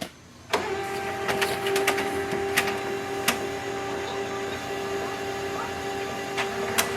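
A Canon ImageCLASS LBP632Cdw colour laser printer whirs steadily after its toner cartridges are replaced, a constant motor hum broken by a few sharp clicks and mechanical knocks.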